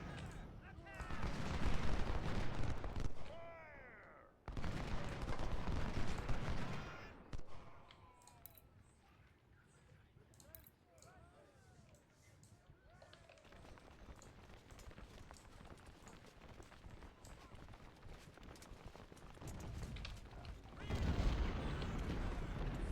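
Gunfire in the Civil War strategy game Ultimate General: Civil War during the Battle of Shiloh, with loud bursts of rifle and artillery fire in two heavy volleys, a quieter stretch of scattered shots between them, and another burst at the end.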